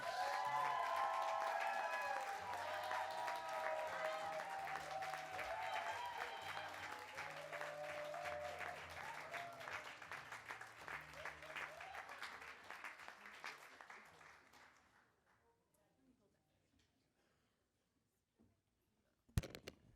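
An audience applauds an award recipient at a civil rights champions awards ceremony, a dense, steady wash of clapping and some cheering that fades out over about fifteen seconds, followed by near silence and a brief bump at the end.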